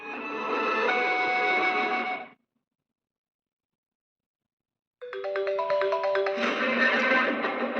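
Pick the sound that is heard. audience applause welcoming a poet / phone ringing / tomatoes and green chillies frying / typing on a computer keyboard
phone ringing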